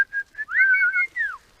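A whistle shrills along a forest trail near a wood pigeon hunting hide in southwest France, starting with short steady tones and then sliding, warbling longer blasts that fall at the end, loud and clear with nothing else around.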